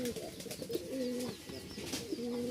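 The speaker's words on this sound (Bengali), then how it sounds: "এখানে হচ্ছে মোট দুই জোড়া কবুতর" Soft, repeated pigeon coos in low rolling phrases, close by, with faint higher chirps in the background.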